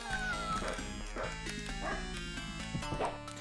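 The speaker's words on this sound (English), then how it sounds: "It's just a dog that sounds like a cat." A dog enemy in the video game Monster Bash gives a few short, yipping, cat-like barks over continuous game music and effects.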